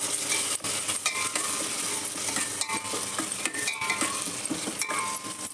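Ginger-garlic paste, chili powder and salt frying in a hot pan while being stirred, giving a steady loud sizzle with repeated scraping strokes of the spoon throughout.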